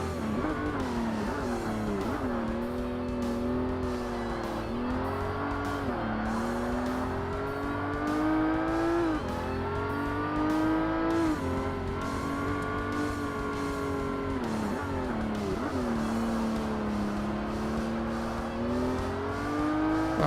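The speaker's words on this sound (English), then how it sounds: "I'm getting used to driving this thing now because I'm hitting these turns a little bit better." Race car engine in the original Xbox Forza Motorsport, loud and up close, revving steadily through the gears with repeated rising pitch sweeps and brief dips as it shifts and takes corners, under no talk.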